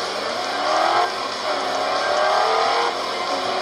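Racing car engines drone and whine steadily, rising and falling in pitch as the cars accelerate, loud and close with no talking.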